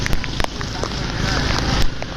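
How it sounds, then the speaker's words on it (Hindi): Heavy monsoon rain pours steadily on a street in Karachi, a dense loud hiss throughout, with a few sharp knocks and a faint voice beneath. "और एक बार फिर से बारिश तेज़ होते हुए"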